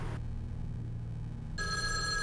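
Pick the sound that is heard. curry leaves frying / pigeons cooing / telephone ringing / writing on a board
telephone ringing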